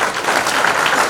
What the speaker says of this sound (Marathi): मला माहिती भाषण संपल्याच्या टाळ्या वाजल्या.